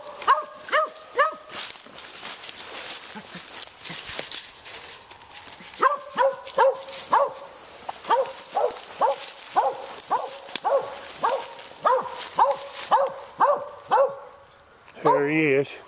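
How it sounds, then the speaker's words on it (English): A hound dog barks at a raccoon up a tree, loud baying barks coming in quick rhythmic bursts with pauses between, ending on one sharp final bark. "Nice big coon. Treed by squirrel champion, Lakeland's Goldie."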